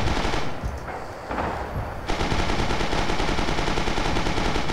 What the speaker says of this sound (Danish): Jeg sidder på maskingeværet.